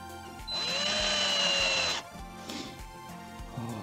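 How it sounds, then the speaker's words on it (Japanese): A power drill drives a screw into a motorcycle tyre to make a makeshift spike, one close whirring run of about a second and a half, then a few faint knocks. "でサイドは普通の長さのネジを打っていきます"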